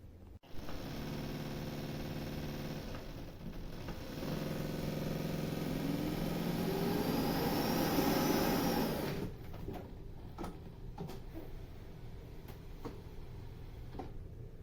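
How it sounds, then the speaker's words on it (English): A Narwal Freo Z10 robot vacuum and mop combo whirs as it spins its rollers, then its suction kicks in with a louder rising whine before cutting off abruptly, leaving faint intermittent clicks and rattles. "it spun the rollers initially to clean the roller off, and then it did the vacuum to empty out what residual residue may have been in the storage tank"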